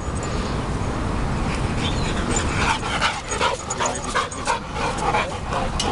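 Dogs panting and whimpering close by, with steady breathy huffs and occasional high whines over a noisy outdoor background.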